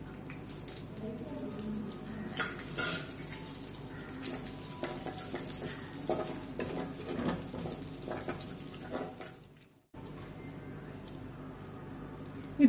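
Fennel and fenugreek seeds fry in hot oil in a kadai for a Tamil fish kulambu. The sizzle is soft and continuous, with a close crackle and light stirring, and it briefly drops out near the end.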